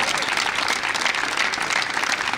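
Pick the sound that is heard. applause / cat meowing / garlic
applause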